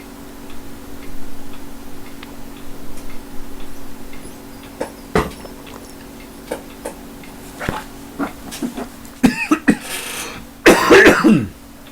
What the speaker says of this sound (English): Let's get back to me coughing and dying after taking a drink of water.